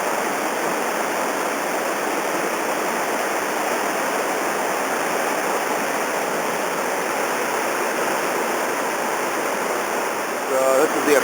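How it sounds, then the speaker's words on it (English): Rapids on the Robson River in British Columbia roar in a steady, dense, unbroken wash of rushing whitewater, loud and close throughout, with a brief extra splash or clatter near the end. "pretty much the last major chute, last major rapid on Robson Creek."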